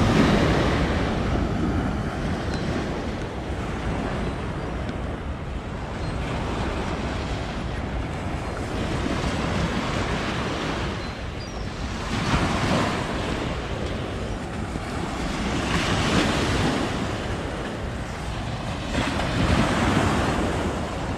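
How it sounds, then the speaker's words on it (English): Ocean surf breaking steadily on Brighton Beach, a broad continuous wash with swells rising and falling every few seconds, mixed with wind buffeting the microphone and no voices. "There on the beach, Brighton Beach, right here."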